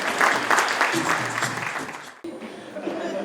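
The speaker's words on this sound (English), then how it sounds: "Let's give a round of applause." Loud, dense applause fills a crowd at the DL Awards 2019 ceremony, sustained for about two seconds before a brief dip, then resuming at a lower level.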